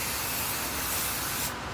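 A continuous, close hiss of spray adhesive from an aerosol can onto quilt batting, steady for over a second before cutting off.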